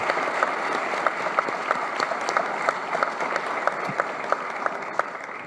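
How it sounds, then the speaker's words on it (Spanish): Steady, dense applause from a conference audience at a Cities of the Americas summit, honoring the mayors of Bogotá and Mexico City, with crisp individual claps standing out throughout. "acompáñenme con un fuerte aplauso para las dos alcaldesas de Bogotá y Ciudad de México."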